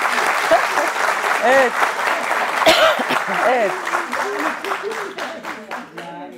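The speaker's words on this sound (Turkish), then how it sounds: "alkışlayabiliriz." A concert audience at a Turkish folk music event breaks into loud, sustained applause, a dense wash of clapping that slowly tapers, with a few voices speaking over it.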